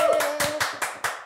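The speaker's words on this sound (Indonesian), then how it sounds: "Kita kasih tepuk tangan dulu dong" Hands clap in a quick run of about five sharp, close claps at an even rhythm, with a voice sounding faintly underneath.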